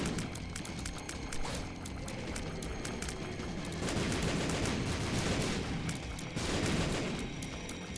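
Video game explosions in The Binding of Isaac: Repentance, a dense, continuous crackling blast texture with surging bursts, moderately loud and unbroken throughout.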